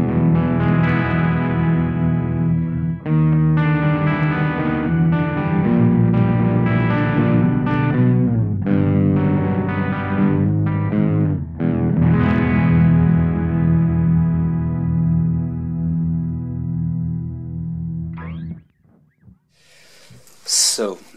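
Earthquaker Devices Pitch Bay pitch-shifting pedal on electric guitar, loud strummed and picked chords with harmonized shifted voices and a distorted edge, ringing out and fading near the end before a brief noise burst.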